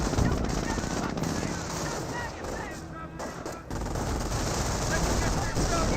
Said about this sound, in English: Ooh, great mortar hit there.